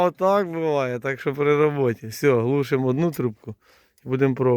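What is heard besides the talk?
No everyday noises stand out.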